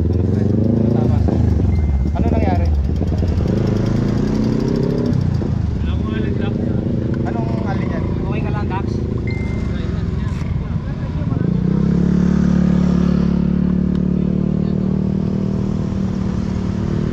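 A motorcycle engine rumbles and revs up close, with the pitch rising and falling, while people talk over it throughout, on a roadside during a cycling group ride.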